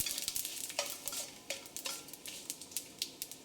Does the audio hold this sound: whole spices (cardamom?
yes